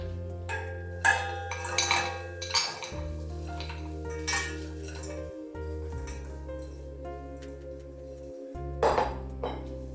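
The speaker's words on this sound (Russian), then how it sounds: "Ягоды отправляю в сотейник." About 400 grams of frozen currants tipped into a saucepan: scattered clattering and clinking of hard berries against metal in several bursts, close, over a steady low hum.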